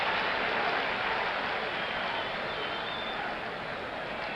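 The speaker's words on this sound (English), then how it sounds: "the applause gets a little louder with every out now" Baseball stadium crowd applauding during the 1970 World Series, a steady broad wash of clapping and crowd noise heard from a distance throughout.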